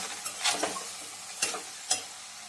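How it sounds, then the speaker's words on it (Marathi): Lentils dry-roasting in a pot and stirred with a spoon, giving three or four brief scraping swishes over a soft, steady sizzle close by. "भांडी न काढता त्याच पातेल्यात ही डाळ आता भाजून घेणार आहे"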